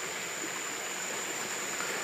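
Spring water in Dusun Tombolok, Maros, South Sulawesi, flows with a steady, even hiss and rush that fills the whole moment at a moderate level, with no voices.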